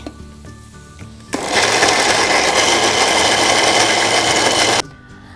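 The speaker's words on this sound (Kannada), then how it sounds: "ಮಿಕ್ಸರಲ್ಲಿ ಹಾಕ್ಬಿಟ್ಟು ರುಬ್ಕೊಳ್ಳೋಣ" Mixer grinder blending roasted coconut masala with coriander leaves and water, a loud steady motor whir starting abruptly after a second of quiet and cutting off near the end, heard close up.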